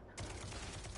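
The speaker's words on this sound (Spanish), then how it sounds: "Es el disparo que se escucha." Gunfire in the video game Rogue Company, a sudden burst of rapid shots cutting in after a quiet start and continuing as a loud, dense rattle.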